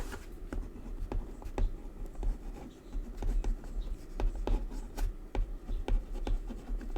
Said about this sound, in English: No matter the weather, I'll just write them on top of the backs.